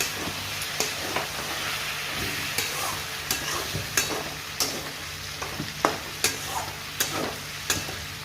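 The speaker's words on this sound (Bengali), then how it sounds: "তাই দেখো আলুটা ভাজছি।" Potatoes sizzle in a frying pan while being stirred, a steady hiss broken by regular sharp clicks and scrapes of the spatula against the pan, close up and without talk.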